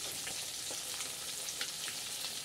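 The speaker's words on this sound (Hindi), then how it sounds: "आप लोग देखते रहिए ये फ्राई होते जा रहा है। ये देखिए पूरा फ्राई हो चुका है मछली।" Fish sizzling steadily in a hot frying pan, a dense continuous hiss with faint popping crackles, moderately quiet and close, with no talking.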